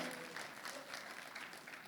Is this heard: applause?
yes